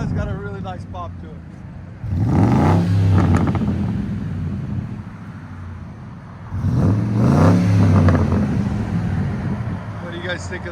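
Two strong throttle blips from a 1999 Ford F-150's 5.4L Triton V8 through true dual exhaust with Cherry Bomb glass packs, each a deep swelling roar that falls back to a burbling idle, heard close up.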